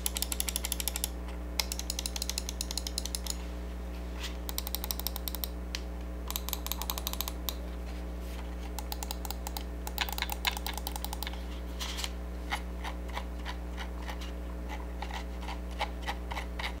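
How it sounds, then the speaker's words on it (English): A Corsair Sabre RGB Pro gaming mouse clicked repeatedly in quick bursts, with crisp, close, fairly quiet clicks forming fast rattling runs separated by short pauses over a steady low hum. "here's a little click test for y'all to hear what this mouse actually sounds like when it's in use"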